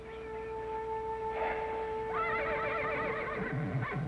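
A horse whinnies loudly with a long, wavering neigh that drops in pitch at the end, heard over a steady background hum, with no one talking.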